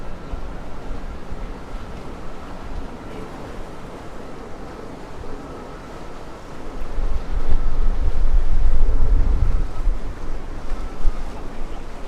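Ocean waves wash in at South Pointe Park Pier in Miami Beach around sunset, a steady broad surf roar with wind buffeting the microphone, the swell rising louder midway through and holding.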